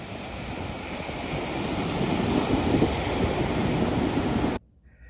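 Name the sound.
ocean waves hitting the sandbar at the beach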